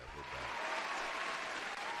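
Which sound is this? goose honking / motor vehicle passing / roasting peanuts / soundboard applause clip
soundboard applause clip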